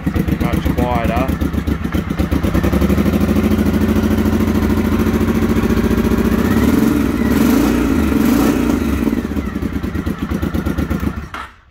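A Honda XLV750R motorcycle with a modified exhaust idles close by, a steady, even engine chug that rises briefly partway through before cutting off at the end.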